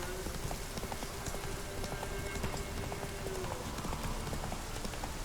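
A horse gallops in The Witcher 3, rapid rhythmic hoofbeats drumming steadily and close over a dense, hissing rain-like background throughout.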